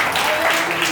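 Church congregation clapping together in a dense, steady patter of many hands for about a second, close and fairly loud, with voices mixed in.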